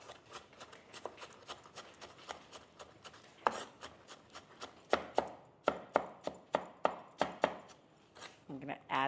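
A large knife chops apples on a board, a rapid run of sharp knocks that slows into evenly spaced louder strikes, close by, with faint speech in the background.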